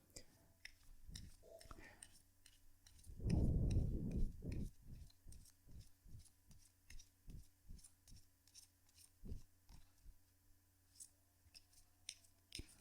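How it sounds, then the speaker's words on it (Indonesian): Tarot cards are shuffled close by in a quiet room: a soft papery riffle, then a string of light, evenly spaced taps and clicks as the deck is handled. A faint murmur sits underneath. "kartunya dikocok dulu sebelum kita mulai"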